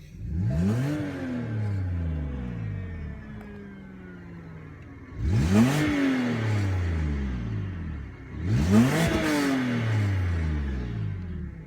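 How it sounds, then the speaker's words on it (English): A BMW E92 330i six-cylinder engine revs hard three times in succession, each burst climbing in pitch then falling back to a throaty idle, heard up close. "It's got the absolutely typical 6-cylinder grunt with a little bit of a rasp"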